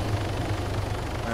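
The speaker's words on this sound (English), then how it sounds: "that's a very loud helicopter" A helicopter passes loudly overhead in the wintry Chernarus setting of the video game DayZ, a steady low rotor thump and engine drone filling the short moment without pause.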